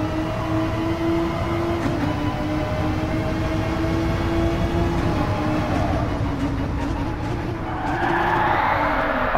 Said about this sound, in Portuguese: Olha o ronco do V6 Biturbo.